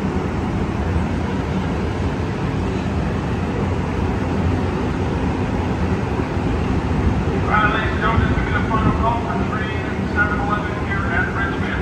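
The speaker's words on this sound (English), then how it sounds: "this is Amtrak 711. Coming from Bakersfield to Oakland Jet London Square." Amtrak San Joaquin passenger train at Richmond station, a steady loud rumble with wind buffeting; a person speaks over it midway while the train noise continues.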